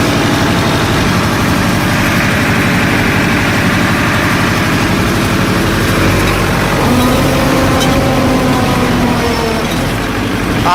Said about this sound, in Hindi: और अब मैं कल्टीवेटर को स्टार्ट करूँगा।